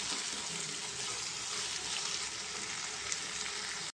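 Tomatoes fry with garlic and cumin in a pan in a steady, close sizzle that crackles on without a break, with no talk over it, and it stops abruptly at the very end.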